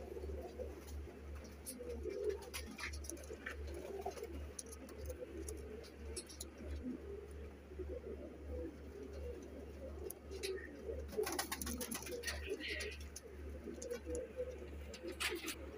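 A pair of Teddy pigeons coos softly and continuously at a moderate distance, a low warbling murmur over a steady low background hum, with occasional brief higher chirps.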